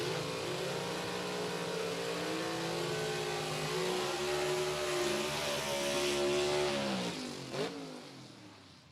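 Drag racing cars doing burnouts at Rockingham Dragway, with loud sustained engine roars whose pitch rises and falls as the engines rev, then fading at the end.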